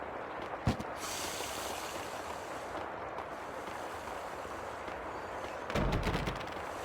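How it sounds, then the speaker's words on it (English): In the Max Payne 2 video game, an explosion sounds as two muffled booms, a short thump early on and a heavier, longer rumble near the end, over a low ambient hiss. "The sound of an explosion came from the direction of my apartment."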